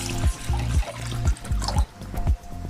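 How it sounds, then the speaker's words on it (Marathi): Water goes into a cooking pot at home to cook rice for prawn biryani, a close, bubbling gurgle that comes in several rhythmic splashing pulses. "याच्यामध्ये मी अर्धं पाणी टाकून घेते"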